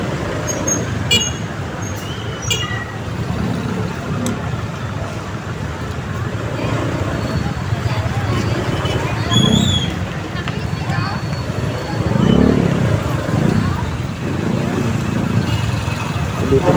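Heavy road traffic with buses, trucks and cars makes a steady, dense roadway rumble all through, with occasional horn toots and passing swells, while people talk over it.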